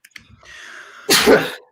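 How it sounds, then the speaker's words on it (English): A loud, close sneeze from a man on a sports betting broadcast, preceded by a brief sharp inhale and building breath, then one strong burst lasting about half a second. "I'm going to sneeze here in a second"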